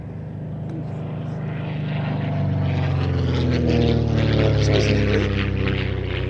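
Replica pre-war Percival Mew Gull racing plane flying past at an airshow, its steady propeller-engine drone swelling louder and nearer across the pass.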